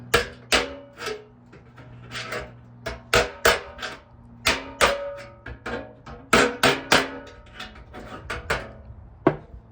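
Hammer blows on the sheet-metal fender of a 1965 VW Beetle, struck from underneath to straighten it: a long irregular series of sharp, ringing metallic strikes, close and loud, some in quick pairs, with no talking.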